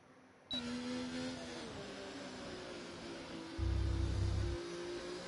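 A Haas race car in the iRacing game pulls out of the pits at Qatar, giving a faint, steady whining engine drone with a low rumble swelling briefly near the end.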